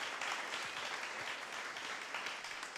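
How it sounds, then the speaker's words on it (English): An audience at a community gathering gives a round of applause, a brief, dense wash of many hands clapping at once, steady and fairly close. "I want to give her a special round of applause"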